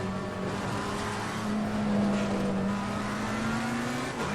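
Aston race cars in Assetto Corsa Competizione, one overtaking another, with a steady loud engine drone whose pitch climbs and falls slightly as they run close together on track.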